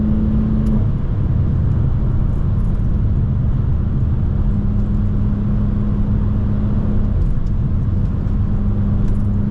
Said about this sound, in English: the car sounds its best when it's up there in the RPMs